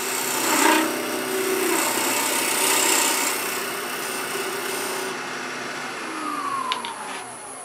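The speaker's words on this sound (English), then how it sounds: "When you use a parting tool, go directly in first till you shear the fibers, and then drop the handle for the cut." A parting tool cuts into turning wood on a lathe while shaping a wooden bird, giving a steady broadband scraping hiss that swells and fades over several seconds, with a rising whine near the end and no talk.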